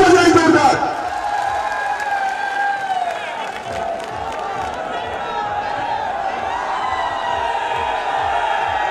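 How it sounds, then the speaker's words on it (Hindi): A large crowd at an outdoor political rally in Rajasthan claps and cheers, the applause a steady roar under a man's amplified speech. "सभी तालियां बजाएं जोरदार"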